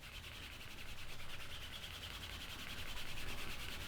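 Leather edges are burnished with fast, light strokes, producing a continuous quiet rubbing hiss with steady back-and-forth texture and no talk.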